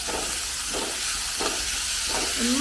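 Onion sautés with a little salt in a pan, giving a soft, steady hiss with a few periodic scraping stirs, heard close and alone.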